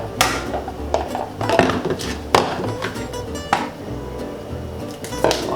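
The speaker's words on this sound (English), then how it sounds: "let me crack open the eggs" Eggs cracked for a mushroom omelette in a kitchen, several sharp taps and clinks against a hard edge spaced irregularly, close and fairly loud over a low background hum.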